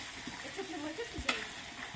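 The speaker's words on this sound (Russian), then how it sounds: "Жарим, жарим сегодня казан кабобчик." Kebab meat sizzles and crackles steadily in hot oil in a kazan cauldron, with a brief scrape of stirring partway through; no voices.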